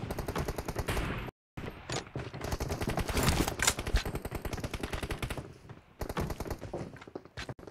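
Rapid gunfire from a mobile shooting video game rattles in dense, loud automatic bursts almost without pause, broken by one brief silent gap.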